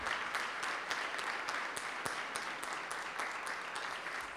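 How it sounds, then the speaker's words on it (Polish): Guests at an engineering awards gala in the Presidential Palace applaud steadily, with distinct sharp individual claps standing out from a fairly soft, even wash of clapping. "Poproszę o brawa."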